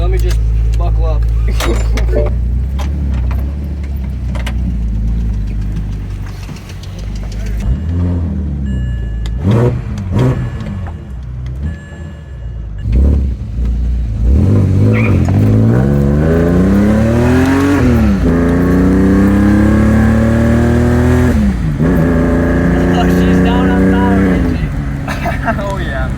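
BMW 325i engine heard from inside the car, a quiet idle and door or window sounds giving way to strong revving that climbs and falls in repeated sweeps, loud and close.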